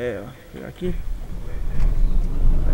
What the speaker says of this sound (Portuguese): Barulho normal de caminhão mesmo aqui do jogo